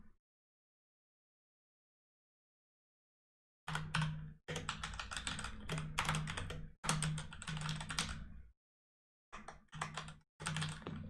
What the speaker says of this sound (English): My goodness, I can't type today.